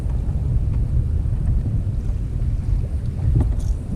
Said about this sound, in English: the wind just picked up like a lot